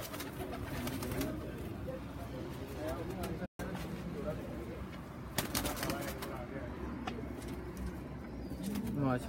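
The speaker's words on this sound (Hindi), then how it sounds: "बड़े अच्छे कबूतर माशाल्लाह" Pigeons on a rooftop loft coo softly amid steady outdoor background noise, while people talk nearby for most of the stretch.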